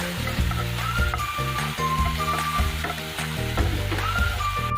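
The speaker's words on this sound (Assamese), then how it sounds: "এইখিনি ভাজি ল'ম ভালদৰে, ভাঙি যোৱালৈকে।" Steady crackling sizzle of tomatoes frying in a pan until they break down, a continuous close hiss with faint tonal sounds in the background.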